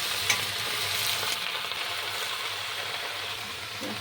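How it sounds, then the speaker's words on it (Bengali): Mixed vegetables for a bottle gourd leaf curry sizzle steadily in hot oil in a pan, with scraping stirs and faint clinks throughout, close and continuous without speech. "আগে সবজিগুলো ভালো করে ভেজে নিচ্ছি"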